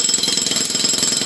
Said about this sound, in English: let's take a beating on the poor jackhammer